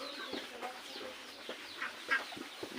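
Ducklings peep in a rural farmyard where cattle are kept, thin high chirps repeating irregularly at close range over a faint background, with no talking.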